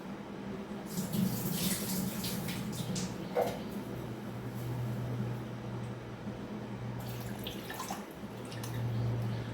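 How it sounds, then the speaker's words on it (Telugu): Water is poured off during kitchen washing in short splashing, trickling bursts near the start and again later, over a steady low hum. "ఇది కొంచెం అంతా ఒకసారి ఇట్లా చేసుకొని వాటర్ వారబోసి మళ్ళీ వేసుకోండి"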